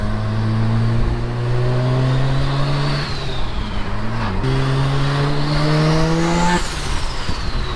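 A Mazda RX7 FD with an HX50 turbo accelerates hard through rising gears from inside the car, with loud climbing engine tones, a quick shift dip in the middle and turbo whine above.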